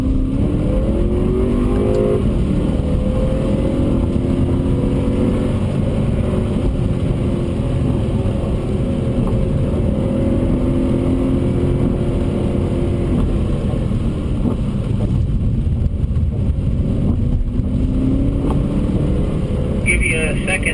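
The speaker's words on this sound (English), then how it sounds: "Sally, you can run in the drive mode or just manual second gear" BMW M3 on a wet track, steady loud engine drone with a rising rev and shifting pitch throughout, continuous under faint talk.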